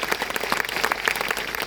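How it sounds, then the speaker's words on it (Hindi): Audience at a direct selling business event claps in a dense, steady burst of applause, loud and close throughout. "तालियां थोड़ी जोरदार आप बजा सकते हैं आपकी संख्या के हिसाब से"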